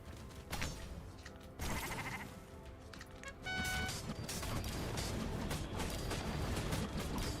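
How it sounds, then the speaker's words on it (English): Sheep bleating in the video game Commander Quest, a few close bleats rising over a dense mix of game music and effects. "That is a 1152 damage sheep."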